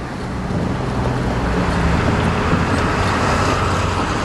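Steady, continuous road traffic rumble and hiss as vehicles pass during a bike ride near a bed and breakfast in LaSalle, fairly loud and unbroken throughout, with no talking.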